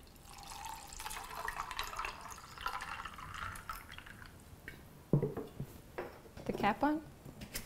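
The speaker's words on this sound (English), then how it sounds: "Pour my matcha." Matcha drink is poured into a cocktail shaker with a liquid trickle and splashing, followed by a few clinks of the shaker and someone talking throughout.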